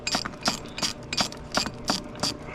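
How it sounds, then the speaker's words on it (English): A ratchet wrench clicks in quick bursts while backing out long bolts from the water pump on a GM 3.8L V6, each burst of close, crisp pawl clicks repeating about every third of a second. "They're pretty long bolts, so just keep screwing and screwing and screwing until they come all the way out."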